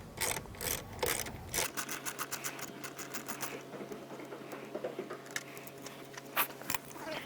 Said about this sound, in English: This is a 10mm socket that you will need to remove the bolts on the gas tank